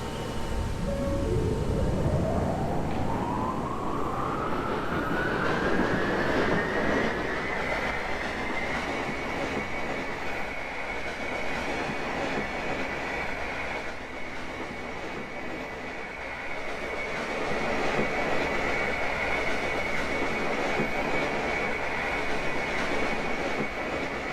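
A simulated New York City subway train on the B/D lines in Roblox pulls away, its motor whine climbing steadily in pitch and then holding a high tone over a constant rumble of wheels, loud and close throughout.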